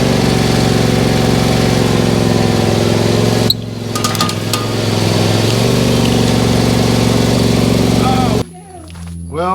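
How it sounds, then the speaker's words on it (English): A lawn mower engine runs steadily and loudly up close with a continuous droning hum, then abruptly drops away near the end. "We're going to use the lawnmower because the lawnmower doesn't get tired"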